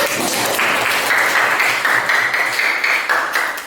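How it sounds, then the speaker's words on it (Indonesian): Steady applause from students in a chemistry classroom lesson, a full dense clatter of many hands clapping together throughout, loud and close. "Kita kasih aplaus untuk semuanya."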